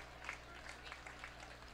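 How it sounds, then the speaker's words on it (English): Spectators at a US Masters Swimming summer nationals meet applaud a swimmer, a faint, distant patter of scattered clapping echoing across a natatorium, with a few sharper claps standing out against low background hum. "Let's give him a round of applause, everybody."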